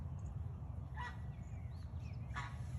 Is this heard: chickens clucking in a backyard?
yes